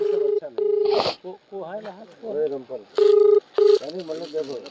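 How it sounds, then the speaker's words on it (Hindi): A phone is dialed before a call to a local official, with steady touch-tone beeps in short bursts and a longer tone, alternating with someone speaking Hindi between them. "देखिए हम उनको फोन लगा रहे हैं और देखते हैं क्या कहते हैं।"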